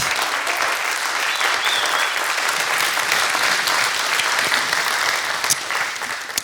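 A church congregation gives loud, sustained applause, a dense wash of clapping that stays steady throughout, with a few scattered louder claps toward the end.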